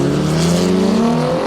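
Ryan Tuerck's nearly stock Pontiac Solstice drift car, under 300 horsepower, accelerates at a Formula Drift event in Atlanta, its engine a loud, close, rising drone with the pitch climbing steadily.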